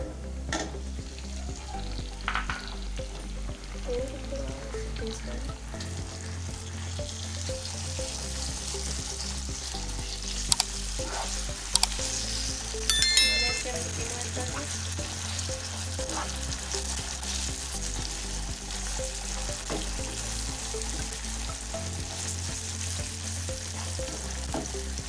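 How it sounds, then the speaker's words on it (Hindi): Minced meat sizzles steadily in a pan with browned onions, a continuous close frying hiss broken by a few stirring scrapes and clinks, with no talking. "अब मैं इसके अंदर जो है वो कीमा ऐड कर दूँगी"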